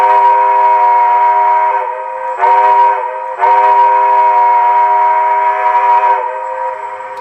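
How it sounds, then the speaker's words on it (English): Loud G-scale model train steam whistle sounding a grade crossing signal, two long blasts, a short and a long, steady and close with brief breaks between blows. "The whistle will blow. So you can blow the traditional grade crossing of 2 longs,"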